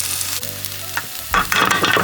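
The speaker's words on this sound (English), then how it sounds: "you throw some of the sliced spring onions into the pan and get them frying." Sliced spring onions sizzle and crackle in a hot pan, with a stirring scrape partway through before the frying grows louder and busier.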